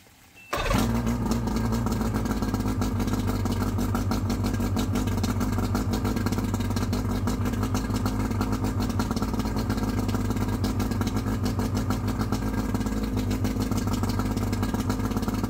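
A 1996 Mercury 115 two-stroke outboard starts abruptly after a brief quiet moment and then runs at a steady idle, a close, even buzzing drone with constant loudness throughout.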